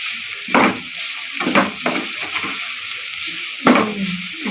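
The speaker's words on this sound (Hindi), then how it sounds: "अब हम इसको अच्छे से मिक्स कर लेंगे" Bhindi masala seasoned with salt, red chilli and turmeric is mixed in a hot pan. A handful of sharp spoon scrapes cut through a steady sizzle and a faint constant high hiss, close by with no voices.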